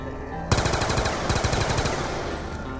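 Rapid automatic gunfire in Call of Duty Black Ops 2 Zombies, a sustained loud burst of machine-gun shots that starts abruptly and rattles on continuously.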